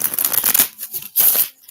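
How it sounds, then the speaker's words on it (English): A deck of oracle cards being shuffled, quick crisp riffling flutters in two short bursts with a brief pause between, close and clear with no talking. "One more shuffle."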